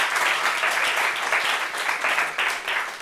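A studio audience on a television show claps in steady, dense applause that swells and eases slightly, close and loud throughout.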